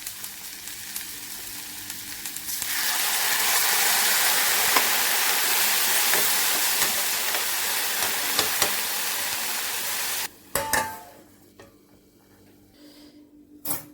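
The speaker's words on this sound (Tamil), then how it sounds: "நம்ம கொஞ்சம் வேகிறதுக்கு தண்ணி ஊற்றிக்குவோம்" Water poured into a pan of frying chayote (chow chow) and vegetables for sambar, a loud steady sizzle and hiss rising after a couple of seconds, with stirring scrapes, then cutting off to quiet kitchen clatter near the end.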